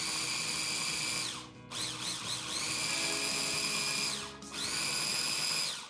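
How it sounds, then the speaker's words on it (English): A food processor whirs loudly as it blends Indonesian bumbu spice paste for gado gado, with a steady motor whine that cuts out twice for brief pauses and restarts, and no voices. "Every so often, scrape down the sides to make sure everything is in reach of the blades, and it can become a nice smooth paste."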